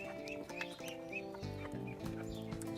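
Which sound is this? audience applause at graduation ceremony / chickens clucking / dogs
chickens clucking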